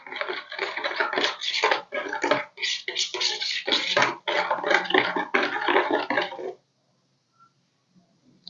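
A spoon stirs a yeast mixture in a container for a proofing test, giving rapid, steady scraping and sloshing strokes for about six seconds before stopping into near silence.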